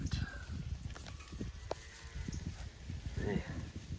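Cattle with a young calf in a dry gravel-road paddock, scattered low moos and shuffling heard at moderate distance under intermittent outdoor talk and wind.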